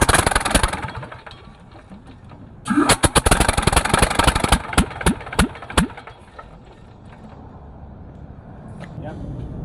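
A Russian reconnaissance tank engine starting: a quiet lull, then loud, rapid cranking and chugging bursts that catch and settle into a lower, rougher idle.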